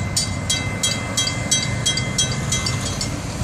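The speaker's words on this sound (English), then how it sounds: "I can say one engine was pulling all of that" An FEC freight train, train 202, pulled by a single locomotive, rolls past close by with a steady rumble and a regular clacking rhythm of wheels over rail joints, with no talk.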